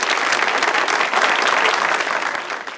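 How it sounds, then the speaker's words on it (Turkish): A studio audience on a Turkish talk show breaks into dense, loud applause, a continuous wash of clapping that holds steady and eases slightly toward the end, with no talking over it. "Bir alkış!"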